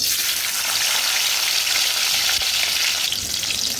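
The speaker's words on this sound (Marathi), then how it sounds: "आता तेल तापलेलं आहे सर्वप्रथम टाकूया टॅमॅटो" Tomatoes dropped into hot oil for a fish curry, frying with a loud, dense, continuous sizzle close by and no talking.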